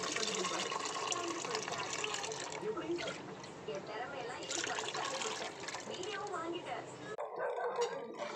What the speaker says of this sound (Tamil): இப்போ புளி கரைச்சோம்ல அந்த தண்ணி ஊற்றிக்கலாம்